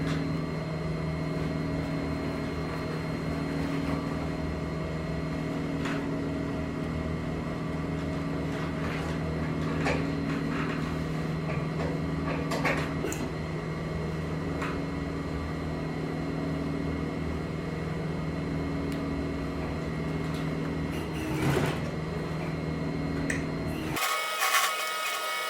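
An industrial sewing machine runs steadily, stitching around the perimeter of a patch on a torn boat cover; a continuous motor hum drones for most of the span, then cuts off abruptly near the end.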